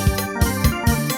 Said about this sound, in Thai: ตัวนี้ซินี่เสียงแซม